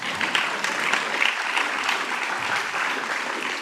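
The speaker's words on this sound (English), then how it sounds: "That's a clapping moment." An audience bursts into steady, dense clapping during an opening-night introduction, a continuous wash of hands lasting throughout at moderate level with no voices on top.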